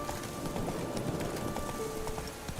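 Roach, Geralt's horse in The Witcher 3: Wild Hunt, gallops along a road in Velen, a continuous rapid clip-clop of hooves at close range with a steady rolling rhythm throughout.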